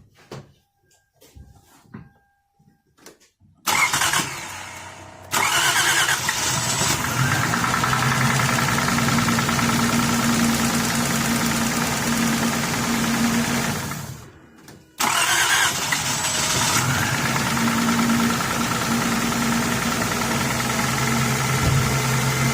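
A 2003 Lexus ES300 engine cranks and fires up, settles into a steady idle with a faint misfire, shuts off briefly, then restarts and idles again, close and loud.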